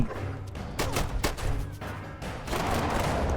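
Gunfire and explosions from the video game Fallout Shelter, several sharp bursts and booms in quick succession against a busy game soundscape, with no talking.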